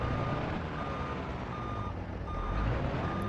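Regular electronic reversing beeps from a Volkswagen dump truck in the Grand Truck Simulator 2 game, steady evenly spaced tones over a constant loud engine drone.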